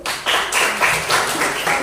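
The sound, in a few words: students applauding, clapping hands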